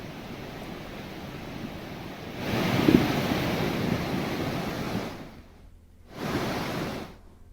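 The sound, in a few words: flooded Yamuna river water flowing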